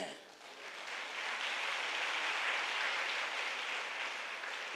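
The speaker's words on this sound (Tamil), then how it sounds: "நல்லா கைத்தட்டுங்க" A church congregation clapping together in a steady, dense wash of applause that holds evenly throughout.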